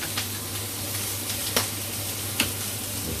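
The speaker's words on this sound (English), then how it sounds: "Let that butter melt." Butter melting and sizzling in a frying pan before pork crackling is cooked, a steady close frying hiss with a few sharp crackles and spatters.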